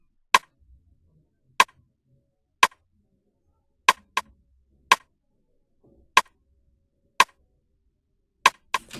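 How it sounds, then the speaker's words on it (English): A basic Afro pop rim shot sample plays alone as sharp, dry clicks, about nine hits in an uneven repeating pattern, each crisp and short with silence between. "It's just like, the basic Afro pop rim."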